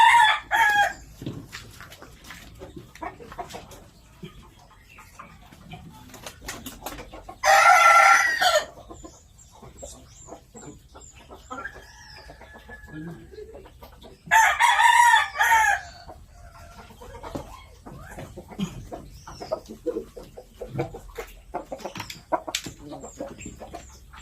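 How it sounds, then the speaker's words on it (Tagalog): Japanese Shamo gamecocks of the Vasto Jutako line, with two loud, close crows a few seconds apart standing out over scattered clucks and background farmyard noise. "This chicken is Japanese Shamo, Basto Jutako or Rockline."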